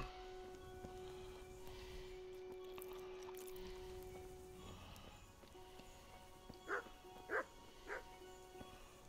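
Three short dog barks in the medieval-world video game Kingdom Come: Deliverance sound faint and fairly distant, evenly spaced near the end over a low, steady ambient hum.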